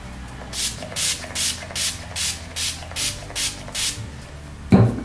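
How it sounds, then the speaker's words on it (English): Smashbox Primer Water misted onto a face from a pump bottle, eight short regular hissing sprays close to the mic, evenly spaced, followed by a brief bump at the end. "This is gonna be weird, spraying with my left hand."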